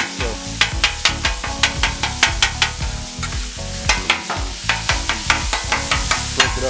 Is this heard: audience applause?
no